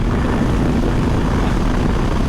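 A KTM motorcycle engine runs at full throttle in sixth gear, a loud, dense, continuous roar with heavy wind noise and no talking.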